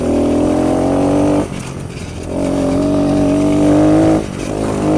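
A Kawasaki KLX 110 small motorcycle engine buzzes loud and close while riding, with two brief dips where the throttle is closed between shifts before it pulls again in a higher gear.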